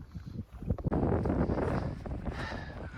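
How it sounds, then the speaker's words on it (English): Wind gusting at a snowy mountain trailhead in the Highwood valley of the Rockies, a steady, broad roar buffeting the microphone close up, surging after a brief lull and staying strong throughout. "Always windy at the trailhead of this valley."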